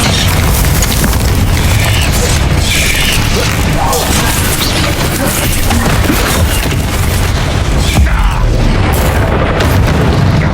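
A Confringo fire spell bursts in Hogwarts Legacy, loud booming explosions layered over dense combat noise and rumbling crashes that fill the scene continuously, with a voice speaking partly over them.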